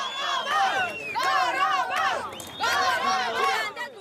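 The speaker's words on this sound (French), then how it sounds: "c'est toute la population qui sort dans les rues et applaudit" An outdoor street crowd roars in bursts of cheering and shouting voices, loud and close, rising in waves with brief dips between.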